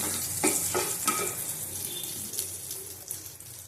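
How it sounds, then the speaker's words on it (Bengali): Spices and a dried red chili fry in hot oil in a pan for a pumpkin, potato and ridge gourd curry, a steady close sizzle with a few light stirring scrapes and no talking. "একটা শুকনো লঙ্কা দিলাম। ভালো করে মশলাটা ভেজে নেব।"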